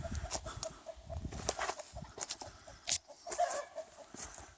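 A few chickens cluck faintly and intermittently at a tiny house build site, soft repeated short calls with scattered background noise.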